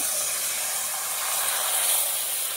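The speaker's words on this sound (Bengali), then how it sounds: "মা তেলটা দিয়ে দিল, তারপরে বাটিতে করে কিছুটা চালের গুঁড়ো নিয়ে কড়াই দিয়ে দিল" Rice flour batter for pitha hisses steadily in an oiled wok, a continuous close sizzle with no speech over it.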